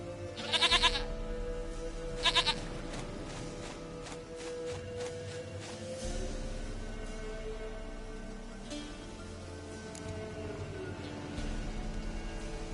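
In The Witcher video game, a goat gives short bleats near the start amid game ambience, followed by a long stretch of softer background sound with occasional faint clatter and no talking.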